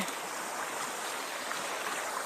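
A stream runs along a forest bank beneath overhanging branches, giving a steady, even wash of flowing water with no voices.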